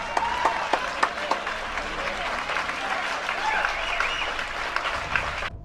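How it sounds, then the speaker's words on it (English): Church congregation applauds during a sermon, a steady crowd clapping with a few sharper claps standing out and voices mixed underneath, cutting off suddenly at the end. "Are these people applauding him talking junk about his wife?"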